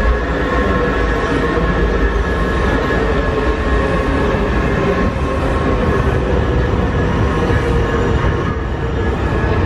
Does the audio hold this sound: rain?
no